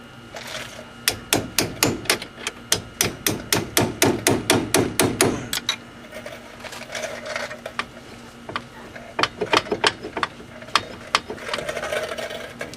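A flat chisel is struck with a hammer while removing the wheel hub from a 2001 Chevy Cavalier, giving a rapid series of sharp metallic blows, then a short lull and a further scattered burst of strikes.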